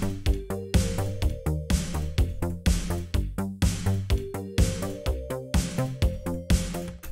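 Italo disco track with a sustained synth pad melody over a punchy, steady four-on-the-floor beat and bassline, loud and continuous with regular rhythmic pulses and no vocals.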